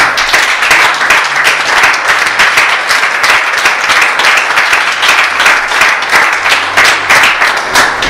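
A church congregation at a French-language Christian service breaks into loud, sustained applause, with dense, even clapping filling the whole stretch and no pause.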